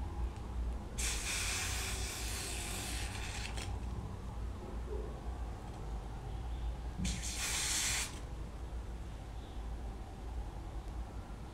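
Two bursts of aerosol spray hiss onto a wig during installation, each lasting a few seconds, with a quiet pause between them and no talking.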